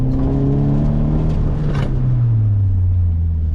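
An autocross car in an SCCA school run accelerates under throttle, its engine note rising and falling as a strong, close drone with an interior rumble, and no one speaking.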